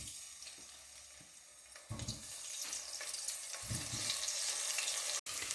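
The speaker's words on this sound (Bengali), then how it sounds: "এবার আমি আলুগুলোকে ভেজে নেব।" Potatoes lightly fry in warm mustard oil with a continuous hissing sizzle that grows stronger toward the end, along with a few louder bursts and scraping stirs, and no voices.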